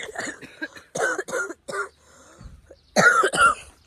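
Repeated coughing outdoors in gardens near Gatha Lake, several harsh bursts in quick succession, a pause, then two more loud coughs close to the microphone.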